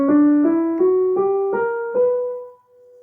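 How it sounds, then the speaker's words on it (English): Six sustained notes step upward one after another on a melodic instrument, a scale played slowly and cleanly with no voices, the last note ringing out and fading. "we just identify the 7th note of the scale and raise it by a semitone"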